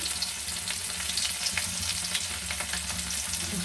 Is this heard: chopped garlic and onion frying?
yes